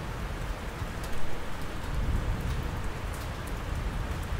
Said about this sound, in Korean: 빗소리에 귀를 기울여 보세요.